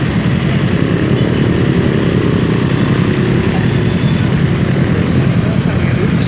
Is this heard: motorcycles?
yes